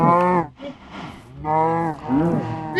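Cattle in a cattle shed moo loudly and close by, two long drawn-out lowing calls with a brief pause between them.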